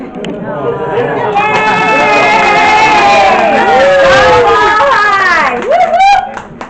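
Many voices overlap in loud, close crowd chatter at an evening media event previewing Galveston Mardi Gras art, with several people talking over one another and a few higher exclamations near the end.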